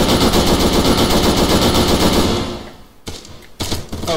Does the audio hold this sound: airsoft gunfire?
yes